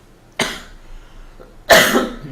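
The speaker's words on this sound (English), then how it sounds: "I have to keep saying sorry for the coughs" A man coughs twice, a short cough followed a moment later by a louder, longer one, close and alone in an otherwise quiet room.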